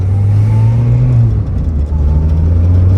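A 2018 Subaru BRZ (or its Toyota FRS twin) engine runs close by with a loud, steady low drone that dips briefly and then holds again, with no one speaking over it.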